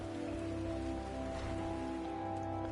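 Steady cold rain in the video game Final Fantasy XIV, a dense even patter on surfaces holding constant without pause, with no voices over it.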